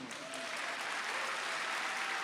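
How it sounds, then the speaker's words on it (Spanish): A church congregation applauds in a thick, continuous wash of hand claps, heard at moderate distance with no speech over it. "¿Cuántos pueden darle un buen aplauso al Señor?"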